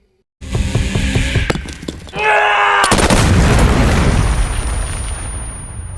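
A war film scene bursts into loud gunfire and a grenade explosion after a brief silence, with sharp shots followed by a big boom and rumbling debris that fades slowly.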